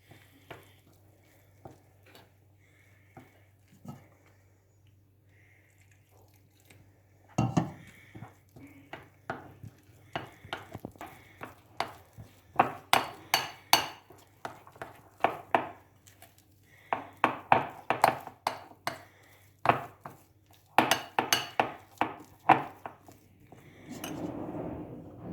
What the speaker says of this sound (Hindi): थोड़ा थोड़ा पानी डालते जाएंगे, और साथ ही इसको अच्छी तरह चम्मच की मदद से हमने बटर तैयार कर लेना है